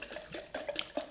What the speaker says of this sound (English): I need 800 millilitres of pineapple juice. Just pour that in there.